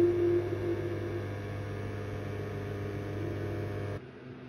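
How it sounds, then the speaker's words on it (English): A microwave running on a modified sine wave inverter hums with a harsh, buzzy electrical drone, steady and close, then switches off abruptly near the end, leaving a quieter background. "the microwave didn't sound very happy at all"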